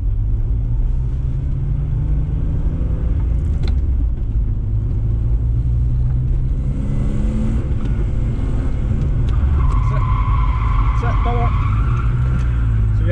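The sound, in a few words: car drifting and skidding after a handbrake pull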